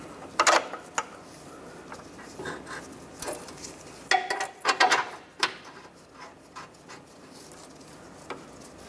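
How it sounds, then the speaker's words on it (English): Ratcheting of a wrench tightening two bolts on an engine mount of a 2007-2013 Mini Cooper, heard as short bursts of clicking spread across the clip, moderately near, with no talk. "And tighten those two bolts down."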